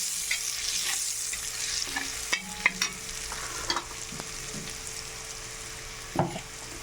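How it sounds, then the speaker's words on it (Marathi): Turmeric, salt and masala fry in a pan for a mutton curry, making a quiet, steady sizzle broken by several sharp spoon scrapes and stirring clicks. "थोडीशी हळद टाकली. अर्धा चम्मच सॉल्ट टाकलं. थोडासा सुरुची मसाला टाकला. याला फ्राय करून घेते."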